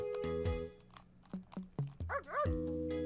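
A dog in the Breath of Fire III video game gives a series of short, sharp barks and yips in an irregular rhythm, close and clear over a steady tonal game background.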